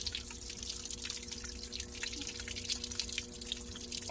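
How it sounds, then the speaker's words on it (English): Water trickles and drips faintly while gray clay is rinsed off a quartz rock by the Coosa River, a soft, steady patter with no voices. "Rinse this off."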